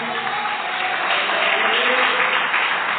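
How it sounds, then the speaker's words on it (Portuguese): A church congregation breaks into applause during a sermon, a loud, even wash of many hands clapping with a faint murmur of voices under it. "Dê uma salva de palmas para o Senhor"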